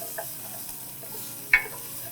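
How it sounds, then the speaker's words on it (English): Creamy tomato soup in a pot under a soft steady simmer, with one brief close knock of a spoon against the pot partway through. "I'm going to pause here for 1 second and give this a stir."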